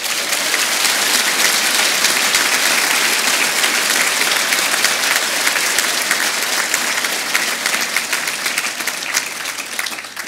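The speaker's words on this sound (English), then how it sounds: "let's offer a very deserving congratulations and applause to all your families and guests" Sustained, dense applause from a large audience at a graduation ceremony for the Institute of Technology Tralee, loud and steady throughout with no pauses, many hands clapping at once in a big hall.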